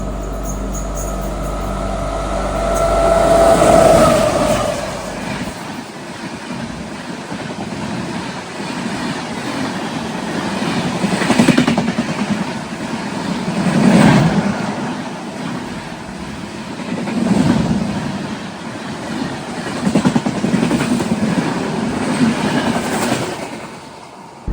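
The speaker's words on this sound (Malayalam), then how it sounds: "ഇപ്പോൾ നമ്മുടെ മൈസൂർ എക്സ്പ്രസ് കയറി ഓവർടേക്ക് അടിക്കും." At Parali station, the Mysore Express rolls past on the adjacent track, overtaking a train held on the loop line, its wheels clattering over rail joints in repeated surges for over twenty seconds after a short horn.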